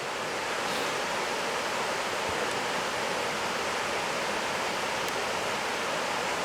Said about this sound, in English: from up here you can definitely hear the rapids